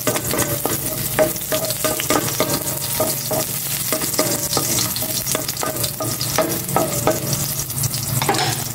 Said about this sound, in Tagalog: Igisa ko na tong bawang.